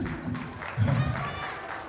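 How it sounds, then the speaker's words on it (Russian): An audience applauds children at the anniversary celebration of the Ansar ensemble, a short rising swell of clapping and crowd murmur in a hall, partly mixed with voices. "Аплодисменты"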